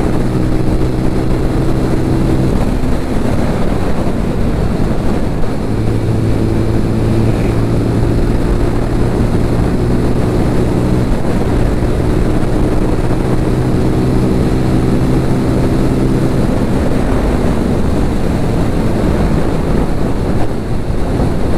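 A TVS Apache RTR 200 4V Race Edition motorcycle cruising in fifth gear, a steady engine drone with harmonic bands buried under heavy, constant wind rush across the microphone.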